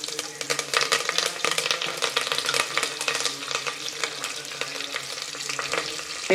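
Mustard seeds and cumin crackling in hot oil in a home kitchen, a dense continuous sizzle with rapid popping, close and fairly loud, no talking.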